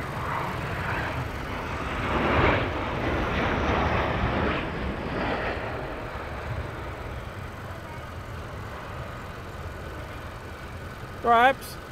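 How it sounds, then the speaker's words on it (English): Fighter jet at RAF Lakenheath, a broad roar rising to a peak and then fading into the distance. Voices talk over it. "Inbound aircraft."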